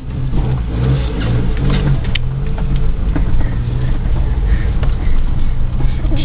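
A 1997 Geo Metro car driving down into the woods, a close, rumbling small engine with bumpy low-end thuds and rattles, steady and loud throughout without speech.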